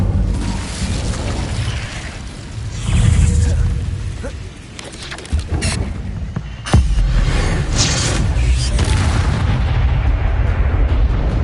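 Confringo and Incendio spells cast in Hogwarts Legacy, loud booming blasts and fiery bursts in quick succession with heavy rumbling impacts and crackling debris throughout.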